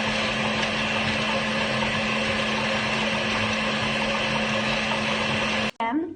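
A kitchen blender running steadily as it mixes liquid ingredients followed by solids, a continuous loud motor whir with a strong hum that stops abruptly near the end.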